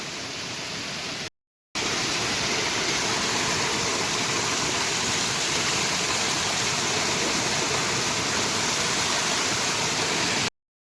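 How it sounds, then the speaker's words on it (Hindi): Loud, steady rush of floodwater gushing over a collapsed mountain road after a cloudburst in Nirmand, Himachal Pradesh, a continuous broadband roar with a brief dropout near the start. "ऐसे ऐसे स्थानों पर भी पानी निकल रहा है"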